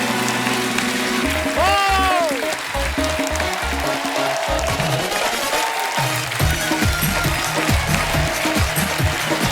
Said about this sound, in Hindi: तो आप सबकी जोरदार तालियों के बीच बुलाते हैं इस शो के होस्ट को